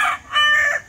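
A farm rooster crows in one short, loud, close burst that rises and falls, with no voices.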